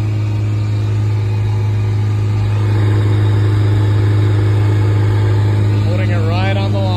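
A Toyota Troopy engine pulls steadily uphill in third gear, a loud constant drone with a low hum that swells slightly partway through; a voice is heard near the end.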